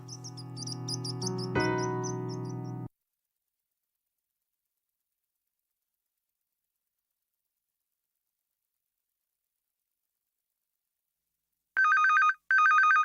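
A phone rings twice in a clean electronic burst near the end, following a short stretch of music with bird-like chirps and then a long silence.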